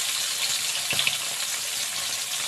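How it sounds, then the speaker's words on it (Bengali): Four tangra fish sizzle in a hot pan of oil, a steady, close, even frying hiss that runs through the whole moment with only a slight crackle near the middle. "আগে চারটে মাছ ভেজে নিই"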